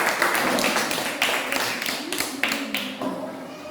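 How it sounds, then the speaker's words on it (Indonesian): A primary school class claps for a student group, a loud rhythmic burst of many hands in repeated patterned beats close by, with no voices over it. "Tepuk tangan bagi kelompok matahari."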